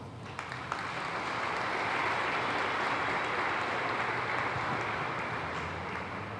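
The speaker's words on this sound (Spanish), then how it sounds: "Un aplauso para el Papa Francisco." Applause for Pope Francis during a homily by a cardinal at a Salvadoran church anniversary of martyrdom: a broad, steady wash of many hands clapping at a distance, sustained throughout without talk.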